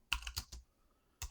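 Short bursts of computer keyboard typing, a few quick keystroke clusters close by entering a pip3 install command for MultiQC in a Python terminal, then a pause and another brief burst.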